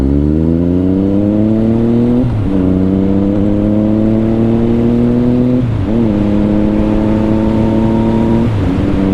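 Yamaha FZ09 (MT-09) motorcycle engine revving up loudly through the gears, rising in pitch three times with brief dips at each shift, steady and close with no talking.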